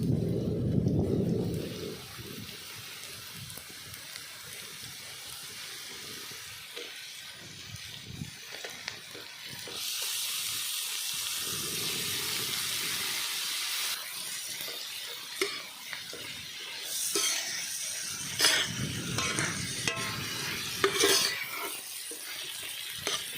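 Mutton chops drop into a hot pan in a village kitchen and set off a loud, broad hiss that swells in bursts, with scraping stirs and clanks of a utensil against the pan.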